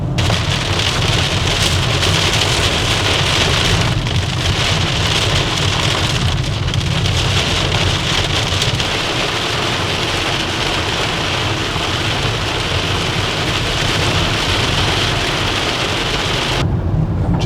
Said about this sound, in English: There we go, have the rain breaking here.